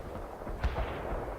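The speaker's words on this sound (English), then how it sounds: "Artillery firing." Artillery fire in the World in Conflict video game, a single muffled boom landing over a constant low battlefield rumble, with a softer second thump just after.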